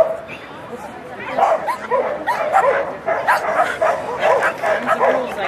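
Several dogs at a dog event in a park bark, yip and whimper close by in overlapping, excited bursts, with a person's voice mixed in among them.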